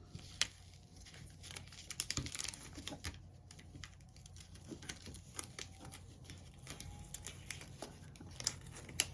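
Cut vinyl peeled off its backing sheet during weeding for a charger plate, a quiet close string of small crinkles, ticks and tearing crackles scattered irregularly throughout.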